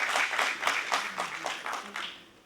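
At a World Human Rights Day ceremony, a modest crowd claps in a run of rhythmic, pulsing bursts at moderate distance, gradually fading out.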